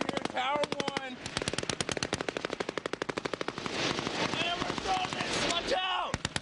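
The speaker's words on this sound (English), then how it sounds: "Now they're putting out suppressive fire to try and push back the attackers." Rapid machine gun bursts of suppressive fire ring out at a military outpost under attack, loud sharp repeated cracks in long strings, with brief shouted voices near the start and end.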